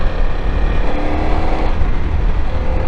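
A Honda CRF250L Rally or CRF300L Rally motorcycle engine hums steadily while riding over crushed gravel, with loud continuous wind and road rumble close by.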